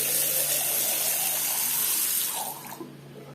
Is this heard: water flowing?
yes